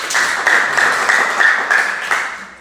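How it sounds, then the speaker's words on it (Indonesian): An audience applauds together after a classroom presentation, steady clapping that is close and fairly loud throughout, with a few sharper claps standing out. "berikan aplaus dulu buat"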